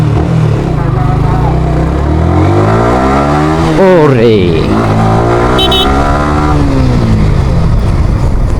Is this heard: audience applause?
no